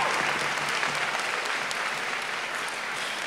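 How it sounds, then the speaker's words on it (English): Steady applause from a high school commencement crowd, loud and continuous throughout, with no speech over it. "give it a round of applause"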